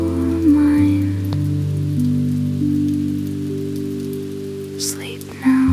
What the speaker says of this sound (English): Gentle rain